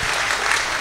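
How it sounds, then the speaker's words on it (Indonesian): A crowd at a live Javanese wayang performance applauds in a loud, dense, steady burst of clapping that fills the whole moment without a break. "Nah, tepuk tangan."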